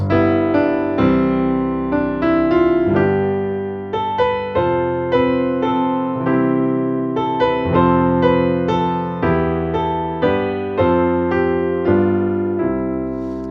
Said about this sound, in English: I'm going to do a combination of chords and melody in the right hand.